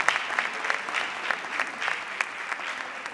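An audience at a live stage show applauds, a dense, steady patter of many hands clapping, moderately loud and unbroken, with a few sharper claps standing out.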